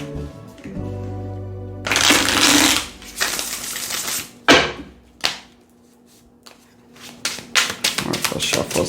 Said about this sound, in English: I want to try once more to riffle shuffle it.